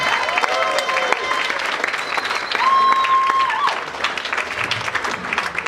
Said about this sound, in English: Give a nice round of applause for Hisham Kelati, everyone.